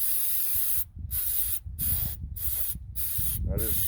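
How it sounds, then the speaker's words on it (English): Mass airflow cleaner sprays from an aerosol can onto a diesel fuel filter in several sharp hissing bursts, close and loud, separated by brief pauses with low background noise. "I just spray it off in there."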